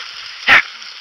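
A single sharp dog bark, close and loud, rises over steady outdoor background during a pheasant and quail hunt in Kansas.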